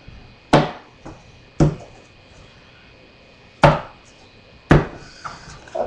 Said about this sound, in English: I'm gonna start cutting the deck many times